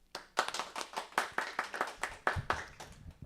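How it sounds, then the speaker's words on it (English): Applause sound effect track played on a car Q&A show: a short burst of many hands clapping in quick, uneven bursts, fairly close and moderately loud, with no talking over it. "Glad we got that applause track loaded up."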